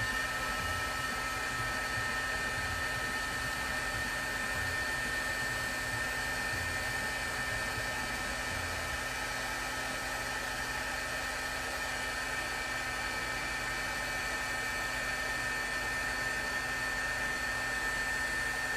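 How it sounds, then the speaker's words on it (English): A heat tool used to emboss pen ink on a card blows with a loud, steady whirring hiss like a hair dryer, running continuously and close with no talking. "So then we can heat emboss this"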